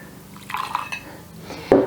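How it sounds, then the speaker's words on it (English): Hot homemade soy milk being poured into a glass, soft trickling and splashing liquid with faint clinks, ending in a louder pour near the end. "I'm gonna pour a little bit out into my glass,"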